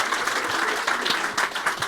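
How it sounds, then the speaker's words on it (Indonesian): An audience claps for a friend on an Indonesian talk show, a steady dense wash of applause filling the whole short stretch with small swells. "Tepuk tangan dong buat teman."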